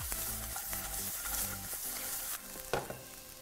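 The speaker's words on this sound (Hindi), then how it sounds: "Give it a toss again." Paneer 65 is tossed and stir-fried in a pan with green coriander, giving a continuous sizzle punctuated by scraping and clattering toss sounds, fairly quiet overall.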